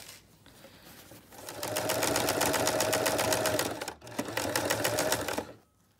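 A sewing machine stitches patio cushion fabric in steady, fast bursts: a run of even, rapid needle strokes, a brief pause, then another stretch of stitching before it stops, close and fairly loud with no talk.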